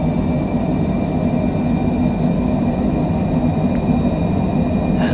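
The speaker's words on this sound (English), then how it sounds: "releasing the parking brake, increasing throttle to maximum for takeoff" Airliner engines spool to maximum throttle for takeoff from runway 25R at LAX, a steady, loud, even roar with a low droning hum that holds without pause.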